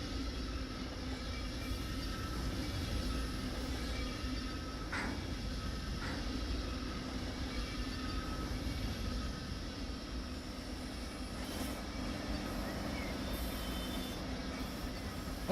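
Steady low rumble of a train running through a rail yard in the Run 8 train simulator game, continuous and moderately quiet throughout with faint scattered clanks.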